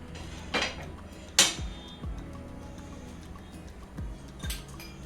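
A metal griddle (tava) clanks down onto a gas stove with a couple of sharp clattering knocks, followed by faint quieter taps and a low background hum.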